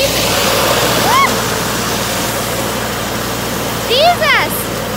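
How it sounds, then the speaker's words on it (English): A well drilling probe sprays water in a loud, steady rushing hiss that fills the whole stretch, close by, with a few short excited vocal cries rising over it. "You see how it's spraying all this water?"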